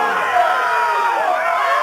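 A video-game arena crowd in Game of Thrones roars and cheers in a dense, continuous swell of many voices, loud and close, with no pauses for the whole moment.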